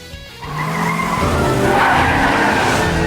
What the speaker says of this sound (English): a car comes speeding around the corner and hits Brian.